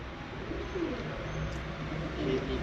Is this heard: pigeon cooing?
yes